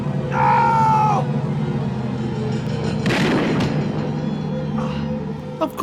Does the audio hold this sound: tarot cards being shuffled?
no